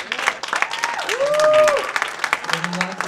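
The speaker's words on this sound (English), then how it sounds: "Lots of love and applause." An audience at an open-room reading gives a short burst of applause, punctuated by a rising and falling whoop and scattered cheers from a few people.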